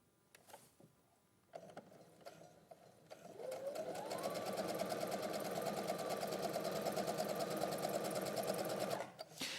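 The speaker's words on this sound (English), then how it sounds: "I'm actually going to sew on the line." A sewing machine stitches a quilt along a drawn line, starting with a few soft clicks before settling into a steady, close, even mechanical whirr that runs for several seconds and then stops.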